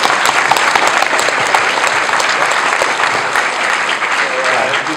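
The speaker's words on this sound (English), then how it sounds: "Can we give this guy a round of applause for Kancolle Viewer" Sustained audience applause fills the room at an anime convention panel, loud and dense clapping with scattered cheers throughout, no break in the sound.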